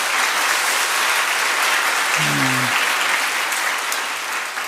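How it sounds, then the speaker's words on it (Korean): Sustained church congregation applause for the pastor's wife, dense and even throughout, with a brief low voice or tone appearing midway under the clapping. "사모님께도 박수 한번 주세요."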